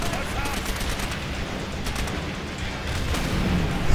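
Heavy gunfire and booming blasts from a tank battle in the video game Call of Duty: World at War, a dense, loud barrage with a strong rise in the final moment.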